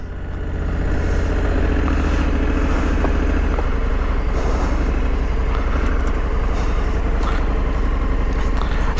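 A 2022 Honda Africa Twin Adventure Sports DCT motorcycle engine runs steadily at close range while riding, a loud continuous low rumble with road and wind noise and no talk.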